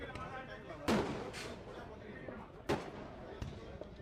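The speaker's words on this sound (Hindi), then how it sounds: "पटाखे बजने शुरू हो चुके हैं।" Firecrackers go off during early celebrations at a Sahani Cup football final between Bargarh and Mayurbhanj. Two sharp bangs stand out against crowd noise and commentary, with a few fainter pops after them.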